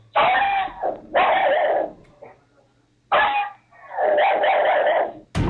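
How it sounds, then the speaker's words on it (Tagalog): Dogs bark and yelp in several loud, rough bursts at 3 a.m., close by, with short pauses in between. "Sa ospital, si Christine, nabulabog ang kanyang tulog nung bigla raw pumalulong ang kanilang mga aso."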